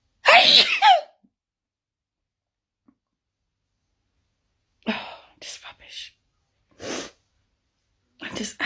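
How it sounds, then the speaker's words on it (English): A person sneezes loudly and close up, one burst at the start, followed after a quiet pause by a string of softer breathy snorts and short sniffs. "Part 1 of Sneezing Marathon."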